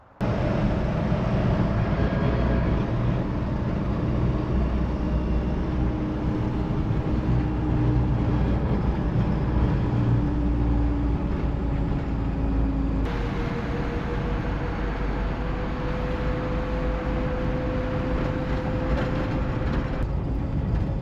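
Interior road noise from a Toyota Land Cruiser driving through Bailey, Colorado, a steady loud low rumble and whine with a gear-change shift partway through, no talk.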